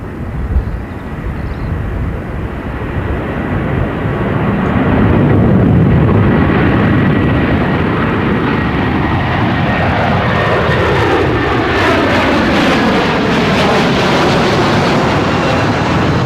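An Airbus A330 airliner roars past at Brisbane Airport, a loud, sustained jet engine rumble and whine that swells and holds, with a sweeping tonal shift as it passes nearby.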